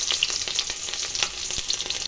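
Chopped shallots sizzle and crackle in hot oil for a fish curry, a busy frying hiss with quick pops and stirring scrapes, fairly close.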